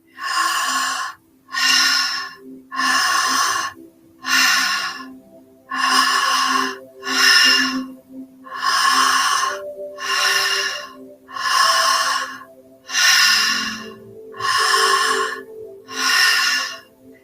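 Deep dynamic breathing exercise: about a dozen loud, forceful breaths sit close to the listener. They come in an even rhythm of roughly one every one and a half seconds, each a sharp rushing inhale or exhale with short quiet gaps between.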